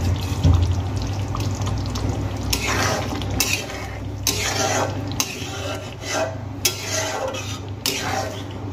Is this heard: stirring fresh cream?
yes